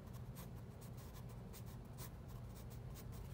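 A pencil drawing blades of grass on paper, heard as quiet, close, rhythmic scratching strokes, short and repeated, with no talk.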